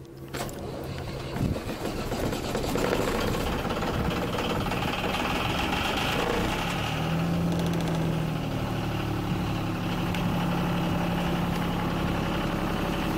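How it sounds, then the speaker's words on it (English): A three-cylinder Yanmar 3GM diesel engine on a 1981 Hunter 37 sailboat starts up after a month unused and settles into a steady, rumbling idle with a rhythmic knocking throb, loud and close throughout. "I'm going to turn the engine on."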